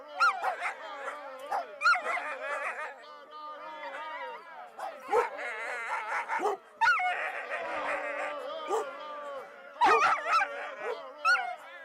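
Several dogs bark, yip and whimper in an agitated chorus, with overlapping high whines and sharp barks coming in bursts, moderately loud and close.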